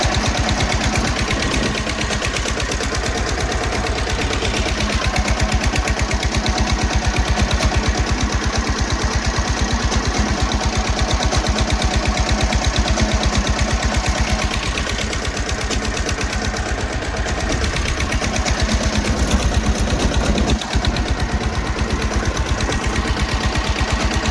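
A farm tractor engine runs steadily on a farm, a loud continuous rhythmic chugging throughout with no talking.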